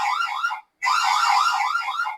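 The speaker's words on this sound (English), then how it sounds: "This is alarm." Alarm siren from a V380 Pro IP bulb security camera, a loud warbling electronic wail heard alone in two bursts separated by a short gap.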